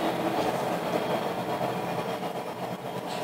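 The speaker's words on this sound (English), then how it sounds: "that train's loud" A loud, continuous rumble of a passing train, steady and close throughout with a faint rhythmic clatter underneath.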